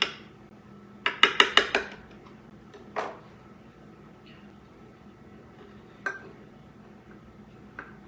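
A small Pampered Chef spatula cuts a square from a pineapple cake, giving a quick burst of four or five sharp scraping taps against the pan. A few isolated clicks follow, close and moderately loud, with no talking.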